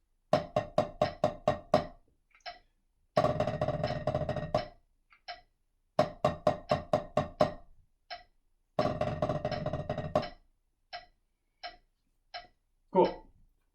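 Snare drum buzz rolls broken into triplet groupings ring out in sharp clustered bursts, short rapid strokes alternating with sustained rolls and isolated accent hits, close and loud with clear silences between phrases.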